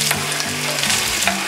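Onions sizzle steadily in hot oil, a dense crackling hiss close by with no talking.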